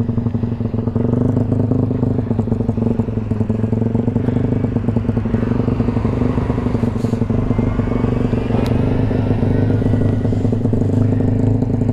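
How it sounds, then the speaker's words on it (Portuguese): Yamaha R15 155cc and Start 160 motorcycles racing at top speed, a loud steady engine drone with rattling clatter and wind rush, sustained throughout with no talk. "Vamos ver, rapaziada, se as motos vão ultrapassar os 180 aqui."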